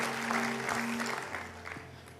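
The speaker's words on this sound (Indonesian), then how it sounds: "Tepuk tangan buat Yesus" Church congregation clapping together in a sanctuary, a brief burst of steady crowd applause at moderate distance with a sustained tone and faint voices mixed in.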